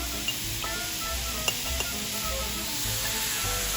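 Carrots sauté in a pan with a dense, even sizzle throughout, broken by a few faint clicks of a stirring utensil; no speech.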